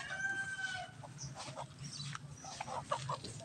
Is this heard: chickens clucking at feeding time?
yes